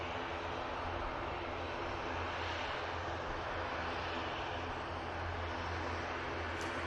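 A TUI airliner inbound from Cancun on approach to Manchester Airport gives a steady, distant jet roar that holds evenly throughout, with no talk over it.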